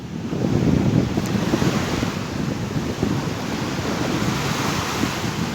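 Sea waves surge and wash continuously on the Izmir coast, mixed with gusty wind buffeting the microphone, and no voices.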